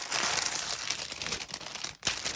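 Plastic wrapping around a small multicoloured teddy bear crinkles and rustles steadily as the parcel from a Chinese shopping site is opened, close and continuous with a brief pause near the end.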